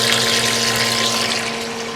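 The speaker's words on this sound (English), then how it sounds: "submersible pump." Submersible pump circulating chilled water through a plate chiller while home brewing, producing a steady close hum with a watery rushing wash over it.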